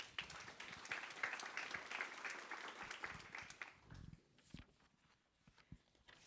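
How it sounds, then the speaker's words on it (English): Audience applause at a behavioral health crisis forum, a moderately faint patter of many hands clapping that thins out into scattered claps toward the end. "Please give us, Amy, a round of applause."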